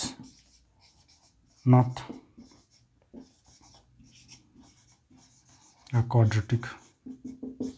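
Pen writing on paper while working a class 10 maths exercise on quadratic equations, with short scratchy strokes running beneath a voice as he talks through the solution.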